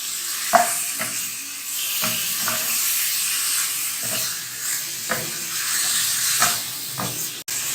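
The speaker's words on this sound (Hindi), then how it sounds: "बहुत अच्छे से इसको फ्राई कर लेना है, बस 2-3 मिनट, इससे ज़्यादा नहीं।" Goat liver (kaleji) fries in oil over high heat, a close, steady sizzle and hiss broken by repeated clicks and scrapes of stirring.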